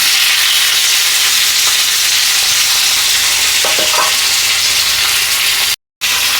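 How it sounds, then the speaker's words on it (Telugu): Tomatoes frying in oil for tomato chutney, a loud close sizzle that hisses steadily throughout, with a few spatula scrapes and a brief dropout near the end. "కొంచెం ఫ్రై చేయాలి టమాటాలు వేసుకొని"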